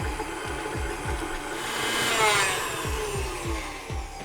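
Electric mixer whirring as it beats cubes of butter for cupcakes, a continuous close motor whine with rhythmic low thumps from the beaters knocking the bowl.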